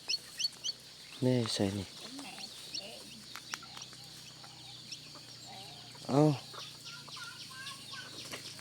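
Loose village chickens cluck in short bursts, with a louder rising squawk near the start and another around the middle, over quiet outdoor ambience while a person speaks briefly.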